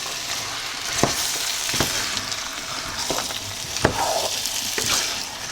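A spoon stirs vegetables in a pot for vegan soup, sizzling softly with a few sharp scrapes and knocks against the pot at irregular intervals, close by and fairly quiet.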